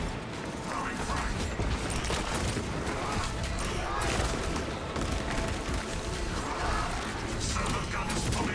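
Servo gun turret firing in the Space Marine 2 video game: dense, continuous mechanical rattling and clanking bursts that merge with the surrounding combat din and play at a steady, loud level throughout.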